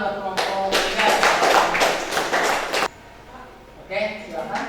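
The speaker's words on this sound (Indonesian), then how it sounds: "tepuk tangan buat kelompok 3" A classroom group claps for a student team, a few seconds of brisk scattered clapping from a small group, then a pause before a voice speaks over light noise.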